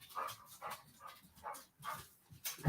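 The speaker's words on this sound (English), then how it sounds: "There's a dog. I hear a dog." A dog barks and yips faintly in a short, uneven series of soft bursts, distant and alone.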